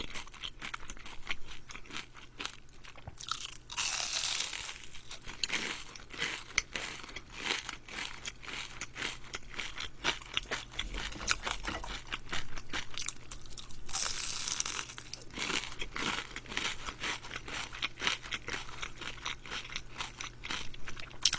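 Crunchy fried shrimp tempura chewed close to the mic during a pasta mukbang, dense crackling bites repeating steadily with two louder bursts of crisp crunching.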